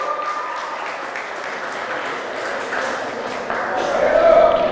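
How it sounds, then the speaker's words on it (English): An audience at a county fair teen pageant applauds, with a dense, muffled wash of clapping blending with crowd murmur and a faint tone rising near the end. "Let's give them one more round of applause."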